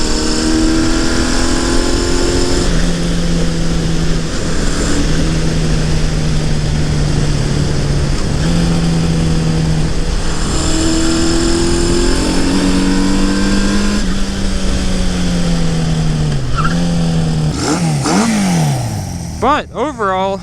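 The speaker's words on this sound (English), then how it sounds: "But overall, bike sounds good. It's running good." A Honda CB500 motorcycle idles steadily and loud up close on a cold day, its engine note drifting slightly before a short rev near the end; a voice talks over it.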